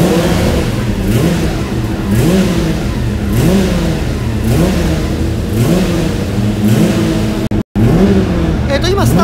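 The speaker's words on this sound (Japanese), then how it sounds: "エンジンかけてもうすぐスタートというところでございます" Racing motorcycle engines idle and rev on the grid at the Sportsland SUGO circuit just before a race start, loud and close, with repeated rising blips of throttle over a constant mechanical drone.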